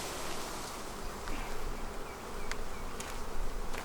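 Honey bees from a hive that has raised a new queen, buzzing densely and continuously, close and steady with slight swells in loudness.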